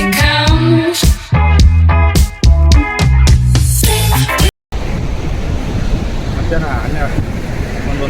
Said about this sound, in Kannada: ಸಮುದ್ರ ಅಲೆಗಳು ಭಾಳ ಜೋರಿದ್ದಾವೆ.